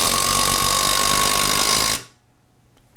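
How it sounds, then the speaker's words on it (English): A Hitachi 18V brushless triple hammer impact driver drives a SPAC screw into a pressure-treated 4x4 post, giving a loud, continuous rattling hammer for about two seconds that stops abruptly, leaving near silence. "we could easily install this SPAC screw into a pressure-treated 4x4 post,"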